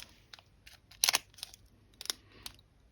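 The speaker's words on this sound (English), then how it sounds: "Some nail scissors will do the trick for now" Small scissors snipping at plastic packaging, a handful of crisp irregular cuts and crinkles up close, with no voices.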